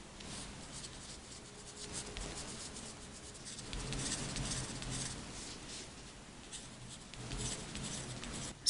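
A pen scratches and rubs across paper while filling in a column of a table, a faint, close, uneven scribbling that rises and falls in short strokes with no voices.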